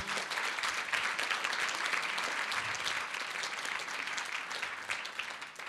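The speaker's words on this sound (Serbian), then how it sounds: "Molim vas jedan aplauz za njih." An audience claps at a public event on European heritage in Kikinda, a dense, even applause that holds steady from start to finish with no voices over it.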